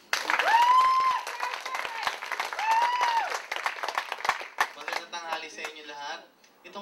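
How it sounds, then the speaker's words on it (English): An art auction audience claps and cheers for the artist Frederick, a dense patter of hands with a couple of rising whoops. A voice begins speaking as the clapping fades near the end. "I need you guys to bring him out with a thunderous round of applause"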